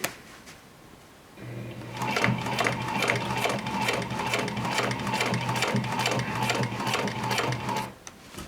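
Domestic sewing machine stitching denim jeans, a steady fast mechanical whir with rhythmic needle clatter running for several seconds after a quiet start, then stopping abruptly near the end.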